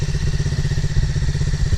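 Motorcycle engine idling and gently throttled by a first-time rider, a loud close low rumble with rapid chugging pulses that stays steady throughout.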